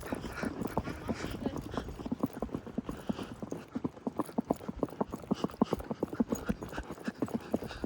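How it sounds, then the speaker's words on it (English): Steady, rhythmic hoofbeats of a horse foxtrotting on hard ground, a quick even clip-clop continuing throughout with faint voices underneath. "it was really nice to be able to hear the feedback of his footfalls"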